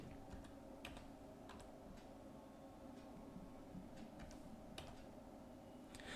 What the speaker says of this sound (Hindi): तो उस कंपनी का मैं नाम यहां पर टाइप करता हूं